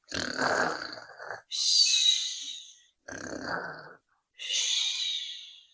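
Voices imitate snoring in four drawn-out bursts with short silent gaps, alternating between rough throaty inhales and higher hissing exhales, close and fairly loud.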